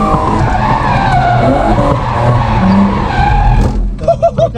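A BMW E30 spinning out while drifting at a drift event, tires screeching loudly and continuously, with engine roar underneath, then rhythmic revving bursts as the car comes to rest backwards.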